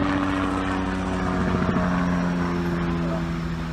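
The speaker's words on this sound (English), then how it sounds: "And there's a helicopter nearby." A helicopter flies nearby during an outdoor pistol-shooting session, its steady, loud rotor drone and engine whine running unbroken throughout.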